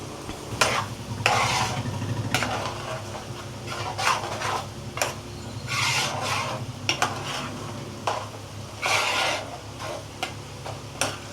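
Ground spice powder being stirred into a prawn curry in a pan, with steady scraping strokes and a soft bubbling sizzle underneath, close and moderately loud with no talking.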